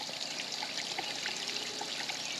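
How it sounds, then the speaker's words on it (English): Steady rushing water streaming out of a newly trenched homestead water line, a continuous close trickle and splash with no talking. "So it is pretty decent little stream."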